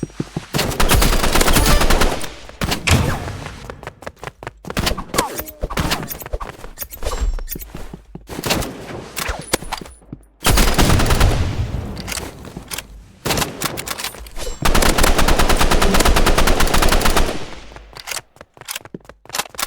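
Rapid bursts of automatic gunfire from the Rivals video game crackle loud and close, firing in long sustained volleys with brief pauses between them.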